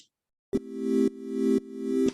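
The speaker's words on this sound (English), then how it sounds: "Sine 4 is more about having more harmonical content in this particular sine wave." A buzzy, harmonically rich synth tone from Ableton Operator's Sine 4-bit oscillator, almost square-like, sounding as four even, sustained repeated notes with abrupt attacks after a brief silence.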